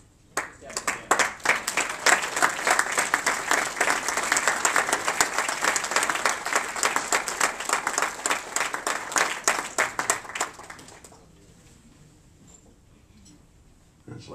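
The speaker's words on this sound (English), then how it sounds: "Just have them stand up and give them a round of applause." An audience applauds a committee at an appreciation and recognition event: dense, loud clapping for about ten seconds that then fades quickly into a quiet room.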